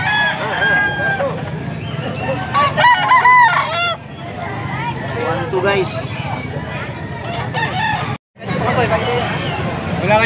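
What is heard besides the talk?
rooster crowing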